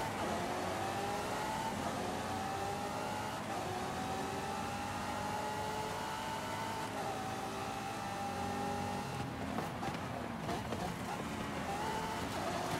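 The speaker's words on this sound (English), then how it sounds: "We are in the Lamborghini Aventador LP700" A Lamborghini Aventador LP700 in an all-wheel-drive grip build in Forza Horizon 5 holds a loud, steady engine drone with gradually rising and shifting pitch, broken near the end by brief rougher bursts, with wind-like noise underneath.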